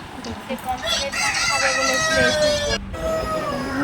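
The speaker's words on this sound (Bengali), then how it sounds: "কতগুলো মুরগি" Chickens clucking and a rooster crowing loudly and close by in a coastal village near Digha, with voices talking alongside.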